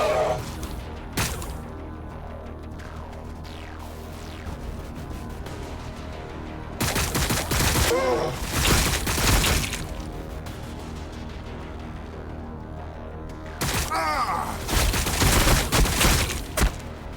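Gunfire rattles in the Warhammer 40,000 Battlesector video game, with bursts of loud rapid shots and crashing impacts over a low battle rumble, two intense volleys standing out.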